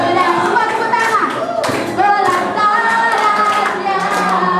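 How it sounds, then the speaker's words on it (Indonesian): Hands clap together along with a lively song at a Christian student worship service for the 2007 Harapan Mekar event, with the claps blending into singing and music. "Semua tepuk tangan."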